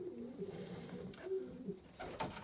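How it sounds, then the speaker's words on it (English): Pigeons resting in the bedding of a bird shed give soft, low cooing calls, several murmuring phrases close by over a quiet background with light rustling. "Little birdies in the bedding, lying about all over the place, taking it easy."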